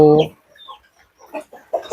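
A Rhode Island Red hen sitting on eggs gives a short, loud cluck at the start, followed by quieter scattered clucks and faint sounds.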